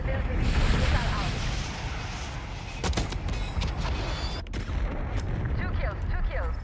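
Missile strike explosions in the multiplayer video game Black Ops 6, a run of sharp blasts and booms around the middle over constant battlefield noise, with talk through much of it.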